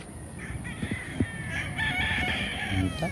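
A rooster crows on a sunlit chicken breeding farm, a drawn-out call rising over a busy yard of clucking hens and other fowl nearby.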